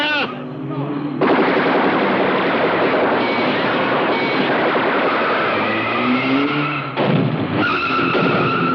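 Soldiers fire guns in a British crime thriller scene, rapid bursts of gunfire roaring loud and continuous for several seconds, with brief gaps and engine noise around the volley.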